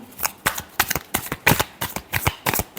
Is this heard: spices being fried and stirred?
no